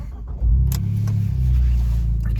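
An Abarth 595 Competizione's 1.4 turbo engine cranks and fires up close by, settling into a deep, throbbing idle with a slight rev swell and a few small clicks over the rumble.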